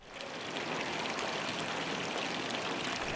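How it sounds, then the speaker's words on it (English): Water splashes steadily from one of the historic fountains in Bern's Old Town, a continuous, fairly close rushing and pattering stream with no voices. "The historical fountains add extra character to the Old Town."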